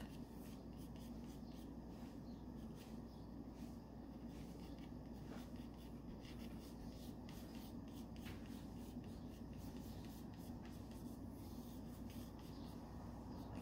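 Faint pencil scratching on paper as a leaf is sketched, soft continuous strokes over a quiet room hiss with no voices.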